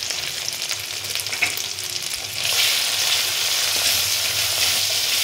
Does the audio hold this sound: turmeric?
yes